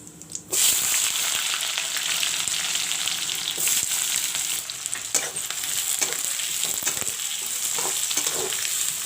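Chopped onions with ajwain frying in a pan for an arbi curry, giving a loud, steady, close sizzle with occasional crackles and small stirring clicks throughout.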